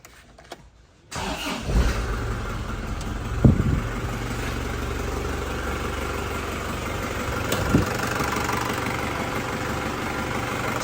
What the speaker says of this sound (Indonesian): Suara mesinnya masih ciri khas banget ya, masih ciri khasnya Panther turbo tahun tua.